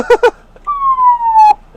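A siren tone from the loudspeaker system of a one-ton Donghae DHS-17AP aerial work truck gives a short, loud, gliding wail that falls slightly in pitch. It comes after brief voice sounds and is heard up close.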